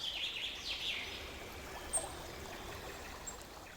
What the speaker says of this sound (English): The river's song was steady, a constant hum beneath the day's noise.